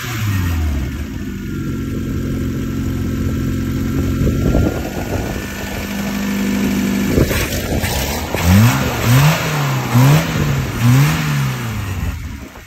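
A Lada engine with a poorly tuned carburetor revs loudly and unevenly close by, rising in pitch and then swinging through several repeated throttle blips toward the end, with no talk over it.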